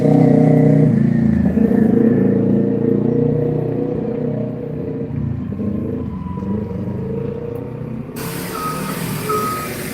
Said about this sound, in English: Going on the bus.